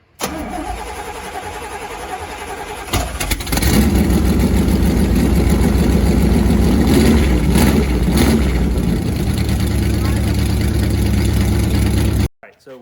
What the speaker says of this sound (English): So we fired up the vehicle